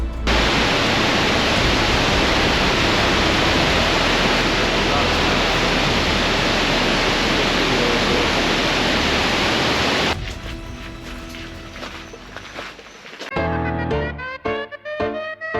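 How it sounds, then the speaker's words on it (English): Kaieteur Falls in Guyana gives off a powerful, unbroken roar like loud broadband rushing noise for about ten seconds, then drops away into quieter tonal, music-like sounds. "It was amazing to just see how much force is coming from that waterfall."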